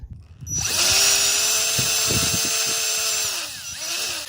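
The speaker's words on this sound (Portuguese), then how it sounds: "E aqui na hora de furar é só seguir aqui, ó, o alinhamento que está aqui no desenho." Power drill whirring steadily as it bores into a wooden spoked toy wheel for a model car, loud and close with a constant motor whine that dips near the end, no talk.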